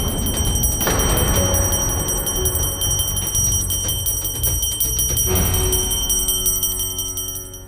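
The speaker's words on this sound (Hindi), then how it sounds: "अब तो चीड़ आने लगी है इस घंटी की आवाज से।" A household bell rings over and over in a home, loud and close, its steady clanging continuing throughout with a fresh strike near the start and another partway through.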